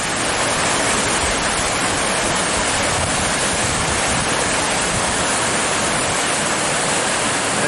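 Creek swollen and running high, rushing water roaring steadily and loudly throughout, close by with no voices.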